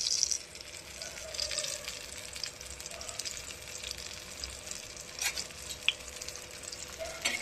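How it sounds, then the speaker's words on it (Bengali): Eggplant slices frying in a pan for a home-cooked curry meal, a steady low sizzle with faint scraping and clinks throughout, no talking. "বন্ধুরা, এখানে বেগুন ভেজে দিচ্ছি"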